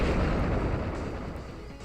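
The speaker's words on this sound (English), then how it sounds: "we went for the Gunk Shot." A heavy, sustained burst of the Gunk Shot attack from a Pokémon battle game, a loud, dense rumbling blast that fills the whole moment and slowly fades.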